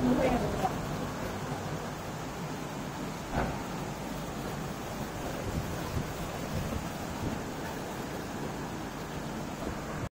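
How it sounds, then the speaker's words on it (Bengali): Heavy rain pouring down at night, a faint steady wash of dense rainfall that continues unbroken throughout, with a slightly louder patch at the start and muffled background sound. "তো 2টার সময় বৃষ্টি হচ্ছে, আজকে মুষলধারে বললাম না"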